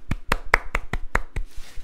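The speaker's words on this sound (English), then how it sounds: "I'm doing a clap today for everybody." Seven sharp hand claps in a steady rhythm, close and fairly loud, with no talking over them and a faint hiss trailing after the last clap.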